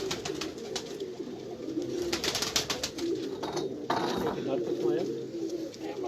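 Pigeons coo on a rooftop in a low, steady murmur, with someone talking over them throughout.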